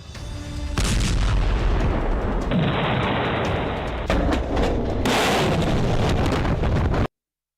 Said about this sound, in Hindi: देखिए ये मिसाइल किस तरह अपने टारगेट की तरफ बढ़ती है और फिर होता है बड़ा धमाका